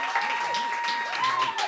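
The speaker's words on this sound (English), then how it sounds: "let's give a round of applause to Matthew Gellman" An audience at a poetry reading applauds a poet, a short steady burst of clapping that fills the room evenly, with a faint sustained tone running beneath it.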